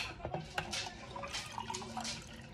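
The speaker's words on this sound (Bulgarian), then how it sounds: "Слагам студена вода." Cold water poured into a container, a close, bright trickling splash with a few louder drips and bursts, steady for a couple of seconds with no speech.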